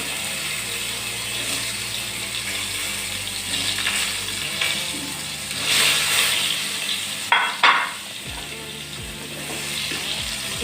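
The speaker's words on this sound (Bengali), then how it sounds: "দেখুন আলুগুলো ভাজা হয়ে গেছে" Half-boiled potatoes frying in oil in a pan, a steady close sizzle with occasional stirring scrapes and a couple of sharper clatters, no voices.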